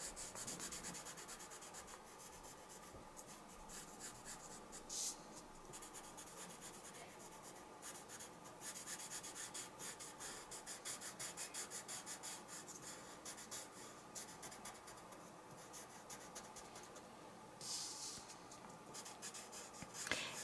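Colouring pencil strokes rub across a printed serpent drawing on ordinary white photocopier paper, a faint close scratching in quick repeated bursts that continues steadily with short pauses.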